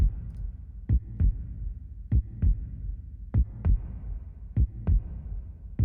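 A synthesized heartbeat loop built to sound realistic: low, thudding lub-dub pairs repeating at a steady, moderate pace, close and even, with a faint hum underneath and no voices.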